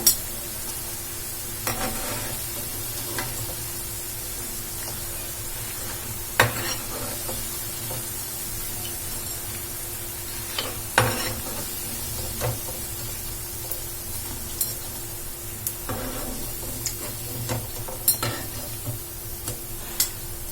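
Potato snacks fry in hot oil, a continuous dense sizzle and hiss with occasional sharp pops and utensil stirs, steady and close, with no one speaking.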